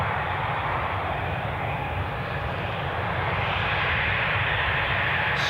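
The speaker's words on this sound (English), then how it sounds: "the image that you've put in my head, Simon, I spy with my little eye our Southampton bound Loganair Embraer BRJ 145" A Loganair Embraer ERJ 145 regional jet at Newcastle International Airport makes a steady, broad engine roar that goes on without a break, heard from outside at a moderate distance with no voices.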